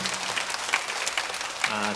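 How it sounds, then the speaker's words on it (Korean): Church congregation applauding the choir during a Sunday morning worship service, a steady wash of clapping throughout with a voice faintly present underneath. "하나님께 영광 돌리는 격려의 박수 한번 해주시면 좋겠습니다"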